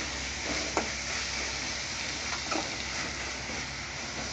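Chopped chukka kura leaves fry in a pan with a soft, even sizzle, and light scraping stirs come through twice over the quiet, steady hiss.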